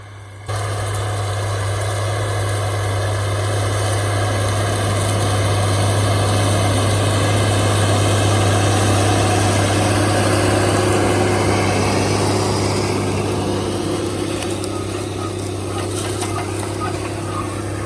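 A tractor pulls a tiller through dry soil, working the ground to a smooth finish; a steady, loud low engine drone with mechanical rumble runs continuously near the listener, with no talk.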